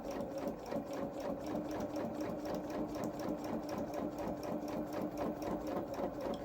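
A sewing machine runs steadily for several seconds, stitching a pair of fabric knee pads for a small mechanic's coverall, with a fast, even whirring pulse and no pauses.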